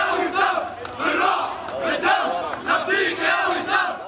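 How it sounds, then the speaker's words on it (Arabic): A large protest crowd on the streets near Beirut's Forum de Beyrouth bridge chants in loud, rhythmic surges, many voices shouting together in repeated waves demanding the government's fall. "مع هتافات مطالبة بإسقاط الحكومة والانتقام للواء الشهيد"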